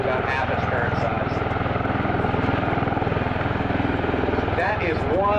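A V-22 Osprey tiltrotor aircraft hovering, giving a loud, continuous, throbbing rotor roar that holds steady throughout, with voices faintly audible beneath it.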